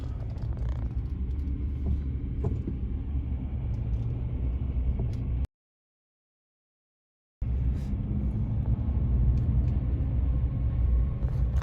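An old car engine runs while driving in gear, a steady, loud low rumble that continues throughout, broken by a short stretch of complete silence in the middle.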